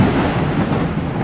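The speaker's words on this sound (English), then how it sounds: "are you sure it's safe to hide under this tree in a lightning storm?" Thunder rolling through a lightning storm, a loud, brief broadband rumble with a rain-like hiss, steady and close with no voices.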